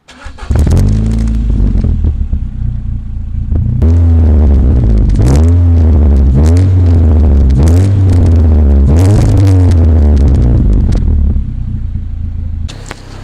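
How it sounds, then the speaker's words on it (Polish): Ford Fiesta ST-Line with a Remus exhaust, recorded up close at the tailpipe: the engine starts, idles, then blips through several sharp revs that rise and fall in quick bursts before settling back to a rumbling idle. "to, co głównie na pewno słychać, to jest układ wydechowy firmy Remsua"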